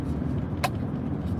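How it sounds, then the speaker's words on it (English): A car moves faintly through heavy snow during an Arctic front with freezing drizzle in Tulsa, Oklahoma, as a low, steady distant rumble under wind noise, with one short sharp click partway through. "Car up there faintly in the snow."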